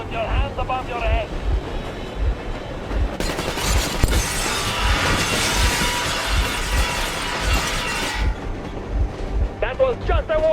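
Train engine in the video game Metro Exodus, a steady loud rumbling drone with broadband roar swelling in the middle, under occasional voice-like tones at the start and end.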